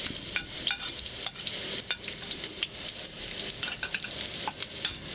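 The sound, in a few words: shallots stir-frying in hot wok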